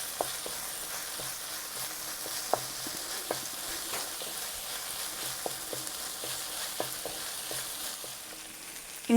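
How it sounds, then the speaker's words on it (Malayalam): Ginger garlic paste frying in a pan for chicken curry, a steady close sizzle with scattered stirring clicks and scrapes throughout, no talking. "ഇഞ്ചി വെളുത്തുള്ളി അരച്ചത് ചേർക്കാം."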